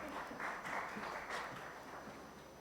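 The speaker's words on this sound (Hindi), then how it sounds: "जोरदार तालियां देवियों सज्जनों, मेरे प्यारे बच्चों।" Steady applause from an audience at an award ceremony where a governor presents the Gau Bharat Bharti Awards. The clapping is a continuous dense patter, fairly distant and soft, tapering slightly toward the end.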